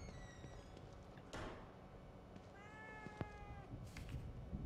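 A cat in The Evil Within 2 meows a few times, short high tonal calls over a quiet ambient game background, with a couple of soft thuds and no voices.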